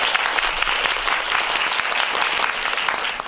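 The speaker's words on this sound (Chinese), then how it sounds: "先给他们热烈的掌声。" An indoor audience at a public talk with a writer bursts into loud, dense, sustained clapping that fills the whole moment.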